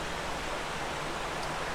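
Waterfall at Castle Clough in Lancashire, a steady broadband rush of falling water, close and unbroken, with no voices over it.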